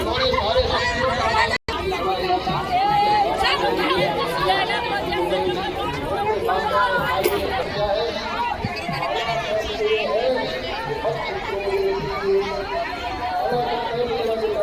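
A large crowd of devotees chatters steadily at a Shiv Purana yagya gathering, dense overlapping voices forming a loud, continuous hubbub close around, with a brief dropout early on.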